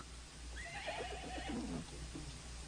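A horse neighs in a long, wavering whinny over steady background noise, part of a radio drama scene with a motorcycle nearby.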